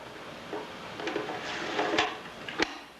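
The door of a 1980s Apple II floppy disk drive is closed, giving a few light plastic clicks and a mechanical latch snap close by, with small handling rattles around it and no talk.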